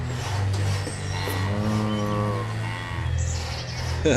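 Cows moo in the town-building game Banished, a drawn-out low bovine call over a steady ambient bed with faint bird chirps.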